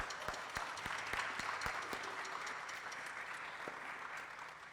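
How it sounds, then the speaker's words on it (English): Congregation applauding the church board during a Sunday service, a steady wash of many hands clapping with some sharper individual claps near the start, sustained then slowly thinning. "Let's give them a round of applause for their work today."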